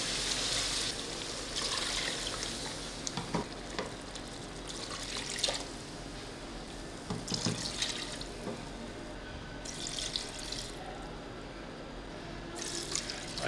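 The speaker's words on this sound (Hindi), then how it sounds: "ये देखें तकरीबन 6 गिलास हमने इसमें पानी शामिल कर लिया है" Water pours steadily from a glass into a pot of simmering beef nihari, a faint, continuous splashing with a few brief louder gushes as more glasses are added.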